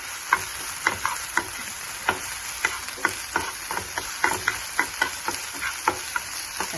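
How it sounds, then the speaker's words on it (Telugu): Ginger paste frying with onions in a pan makes a steady sizzle, with regular sharp scrapes and taps from stirring through it and no talking. "పచ్చి వాసన పోయిన దాకా అల్లం పేస్ట్ కూడా ఫ్రై చేసి వేసుకోవాలి."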